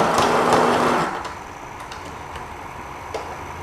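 A sewing machine stitches a seam joining two strips of flexi lace, its fast mechanical whir running loud and steady for about a second before cutting off, leaving quiet room tone with a few soft ticks.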